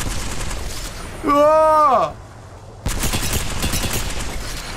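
Rapid gunfire in Apex Legends, a stream of shots fired straight through teammates, loud and dense in two bursts around a brief tonal lull, with a voice briefly exclaiming.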